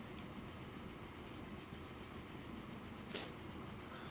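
Trains rolling along rails in the Transport Fever video game, a steady low rumble with faint clickety-clack, continuous and unbroken throughout.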